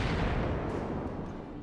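Naval guns fire in World of Warships with a heavy, booming blast that opens the burst and then rolls away into a long, fading rumble.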